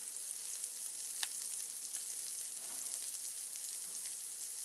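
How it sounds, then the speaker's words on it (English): Bacon frying in a pan in a fine, continuous crackling sizzle, even and moderately quiet throughout, with a few tiny pops and no speech. "Okay, our bacon is coming alive now."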